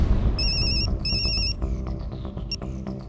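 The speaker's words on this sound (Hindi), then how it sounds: "इतनी रात गए कौन फोन कर रहा है?" A telephone rings at night in a household comedy scene, a bright electronic ringtone sounding in two repeated bursts and then a brief third chirp, over a low background bed.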